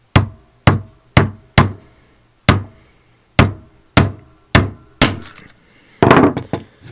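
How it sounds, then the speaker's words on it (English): A hammer gives a Rubik's Clock a series of about ten sharp, close, hard taps at an uneven pace, each a hollow plastic knock. A rougher cluster of knocks comes at the end. "And then you're gonna give a few hard taps with the hammer."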